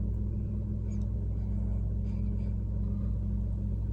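Maruti Ignis engine idling, heard from inside the cabin as a steady, low, even rumble with a faint hum, quiet and unbroken, with no talking.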